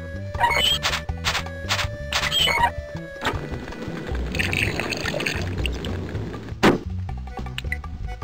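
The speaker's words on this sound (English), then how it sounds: "It's a bucket of water." Water pours from a bucket in the Spy Fox 2 video game: a splashing, gurgling pour lasting a few seconds, set against rhythmic game music at the start and ending with a sharp knock.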